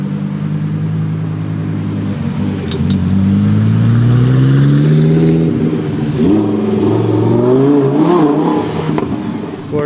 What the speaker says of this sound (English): I hear the V10 of the Performante arriving